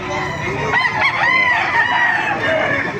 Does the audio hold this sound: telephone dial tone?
no